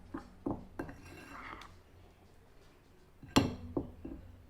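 A utensil clinks against a bowl while dry ingredients such as flour, baking powder and a pinch of salt are stirred for bao bun dough, giving soft scraping and a few sharp taps, fairly quiet.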